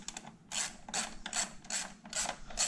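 Ratchet wrench on an extension loosening intake manifold bolts on a 2014 Camaro RS with the LFX V6, giving five rhythmic bursts of clicking ratchet strokes, close and fairly loud, with no talk.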